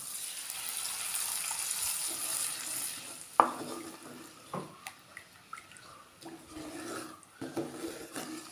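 Tamarind water being poured into fish curry masala in a pan, giving a soft wet sizzle and stirring sounds, with a few sharp clinks and drips over a low hiss.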